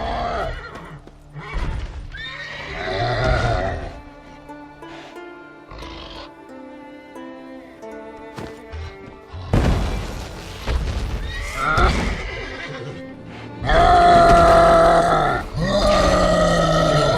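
A horse neighs and whinnies repeatedly in The Witcher 3, loud nearby calls mixed with hoof clops and snorts over game ambience.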